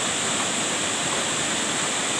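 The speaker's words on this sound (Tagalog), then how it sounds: "Ito ang matagpuan nyo dito, itong batis na to." A stream of holy water at a shrine area in the Dinagat Islands, Philippines rushes and splashes in a loud, steady, close wash of flowing water with no voices.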